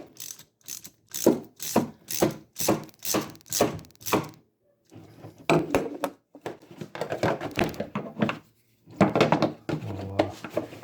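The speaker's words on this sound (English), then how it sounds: "So here we have the handle with the bolt through the end. I'm going to run that all the way down." A ratchet driving a bolt through the broken handle of a Stihl chainsaw case, with close, loud bursts of rapid clicking in a steady repeated stroke rhythm, pausing briefly before resuming.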